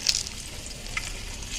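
Fish frying in a pan on a sunny rooftop in fierce heat, a soft steady sizzle with faint crackles, heard close and alone without talk.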